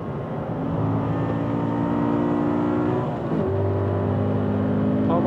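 Car engine running steadily at speed through laps on a race track during an oil endurance test, a loud continuous drone with shifting pitch and a brief dip near the middle as the revs change.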